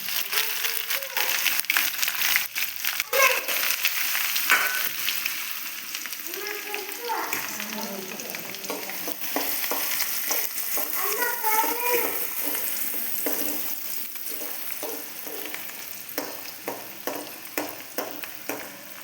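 Chopped ginger and garlic fry in hot oil for a Kerala lemon pickle, a steady loud sizzle with frequent spoon scrapes and stirring clatter throughout.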